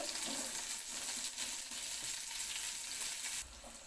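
Brinjals stew and sizzle steadily in a pan for a Telugu vankaya ulavacharu, a dense, continuous crackle close by with no voices, easing slightly near the end.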